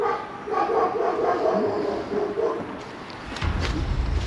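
Dogs bark repeatedly near an old silver mill, a dense run of rapid overlapping barks at moderate distance, followed by a shift to lower rumbling noise near the end, with no voices.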